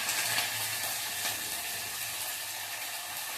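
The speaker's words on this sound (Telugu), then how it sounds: "ఆయిల్లోకి జీలకర్ర, ఎండుమిరపకాయ, చిన్నులపాయ, కరివేపాకు, ఈ 4 ఐటమ్స్ వేస్తున్నాను" Cumin, dried red chilies, shallots and curry leaves frying in hot oil for a tomato rasam tempering give a steady, close, moderately loud sizzle and crackle with no voices.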